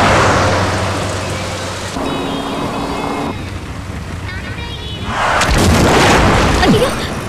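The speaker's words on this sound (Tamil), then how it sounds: "மழை என்னங்க திடீர்னு இப்படி கொட்டுது" Heavy rain pouring down loudly and continuously, a dense roaring wash with deep rumbles like thunder mixed in, filling the whole stretch from start to finish.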